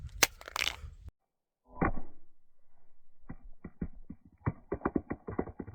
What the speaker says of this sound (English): Let's go ahead and try to break the camera lens